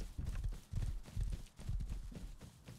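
Rapid, rhythmic horse hoofbeats in the video game Rust clip-clop close by at a steady gallop-like pace, several quick strikes per second, with no other sounds.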